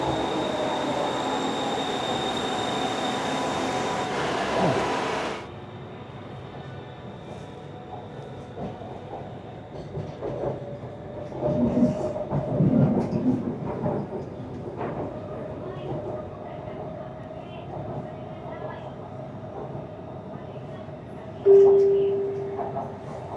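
A Bangkok MRT metro train rides out from Nonthaburi with a steady rolling hum and rattling carriage noise, a brief loud rush early on, rising wheel squeal midway, a short chime near the end, and talk over parts of it.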